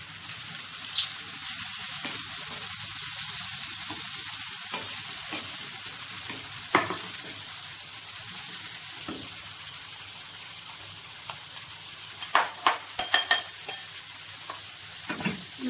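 Meat frying in a pan with onions and peppers gives a steady, close sizzle throughout. Occasional scrapes and clicks of stirring rise above it, with a cluster of sharper knocks near the end.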